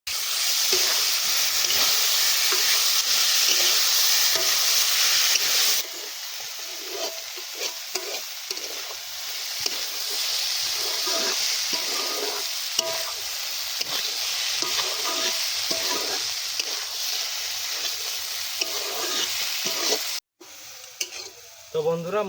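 Boiled banana flower being stirred into a spice paste of chili and turmeric frying in a pan, giving a steady loud sizzle with scraping stir strokes throughout, easing slightly after the first few seconds.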